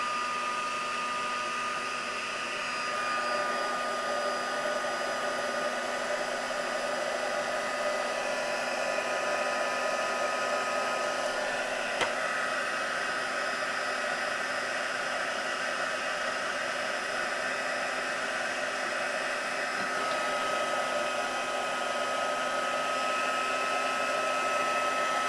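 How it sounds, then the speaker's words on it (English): A craft heat tool blows hot air over a stamped journal page, making a steady, loud, unbroken whooshing drone that runs without pause from start to finish. "get my heat tool out"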